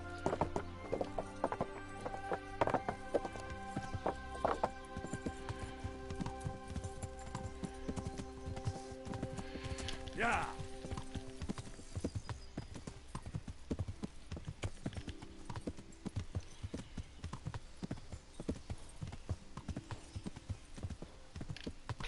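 Horse hooves clip-clopping steadily at speed in the video game Kingdom Come, with a whinny partway through and a faint voice beneath the rhythmic beat.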